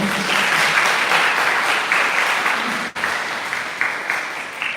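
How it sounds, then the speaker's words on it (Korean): A hall audience at an academic conference on the Korean martial art Sunmudo gives a full, sustained round of applause for the next presenter, with brief dips in intensity but no talking. "큰 박수 부탁드립니다."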